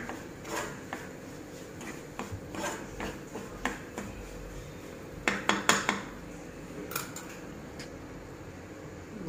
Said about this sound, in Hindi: लो आँच पर हम भूनेंगे सूजी को।